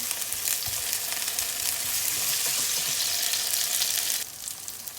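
Char kway teow ingredients frying in a hot pan, a steady dense sizzle running loud and close for about four seconds before dropping quieter near the end, with no talking.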